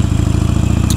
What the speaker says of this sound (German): ich bin heute wieder mit Miss Unbekannt hier auf dem Motorrad unterwegs